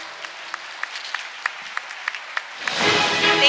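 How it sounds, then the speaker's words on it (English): Audience at an international youth peace conference applauding: a few scattered, distinct claps at first, then a fuller burst of clapping swelling in near the end. "Please give a big round of applause again."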